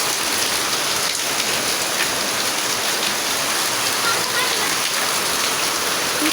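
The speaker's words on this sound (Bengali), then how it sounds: "রমজান মাসের প্রথম বৃষ্টি।" Steady, heavy rain pours down during the first rain of Ramadan, a dense and even hiss of drops hitting surfaces that stays constant and fairly close throughout.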